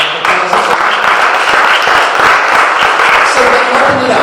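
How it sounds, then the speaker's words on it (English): An audience at a church anniversary celebration gives a sustained round of applause, dense steady clapping that fills the room for several seconds. "let's give them a round of applause."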